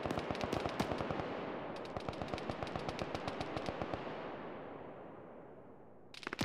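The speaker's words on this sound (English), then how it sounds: "I see where the mortars are hitting." Mortar rounds and gunfire in a large-scale Arma 3 co-op battle: a dense, rapid run of sharp reports, loud at first and then thinning and fading over several seconds, with a final burst of cracks at the end and no talk.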